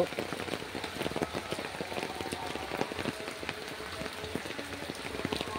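Steady rain pattering on a hard surface beside a stagnant pond, with dense scattered drops close by and no voices, continuous throughout.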